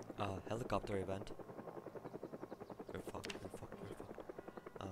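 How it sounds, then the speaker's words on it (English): Helicopter flying overhead during an event in the Project Zomboid zombie survival game, a steady pulsing rotor chop throughout with several people talking over it. "Helicopter event."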